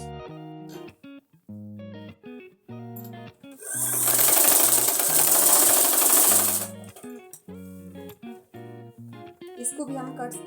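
A sewing machine runs a continuous straight stitch along salwar fabric for a few seconds, loud and steady, between stretches of music and a speaking voice.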